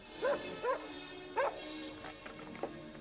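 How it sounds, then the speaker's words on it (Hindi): A dog barks three times in short, sharp bursts, then gives a couple of fainter yips over a low background hum. "ये डॉगी क्यों भौंक रहा है?"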